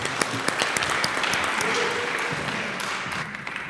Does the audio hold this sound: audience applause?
yes